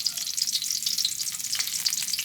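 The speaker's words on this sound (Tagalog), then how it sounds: "pag ako po nagigisa ng bawang, pinapupula ko po yan" Garlic sizzling in hot oil as it is sautéed in a pan for ginataang pakak, a steady bright crackling fry that is close and continuous, with no voices.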